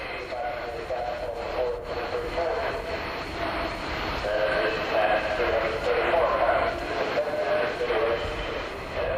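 Airbus A330 with Rolls-Royce Trent 700 jet engines at an air show, a sustained distant roar that rises and falls steadily as it passes, with a voice narrating over it.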